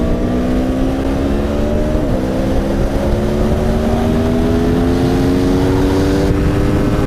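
A 2017 Aprilia Tuono motorcycle engine while riding, a loud continuous drone with wind roar, pitch dipping briefly then climbing steadily as it accelerates, heard from on the bike.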